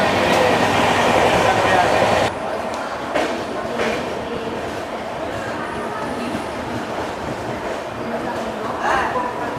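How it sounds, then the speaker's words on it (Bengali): Sealdah–Puri Duronto Express rolling into Kharagpur Junction, a dense rumbling of wheels and carriages that drops abruptly after two seconds to a quieter steady rattle with faint squeals, recorded from inside, with a voice speaking over it. "ট্রেনটা চলে আসলো খড়গপুর জংশন"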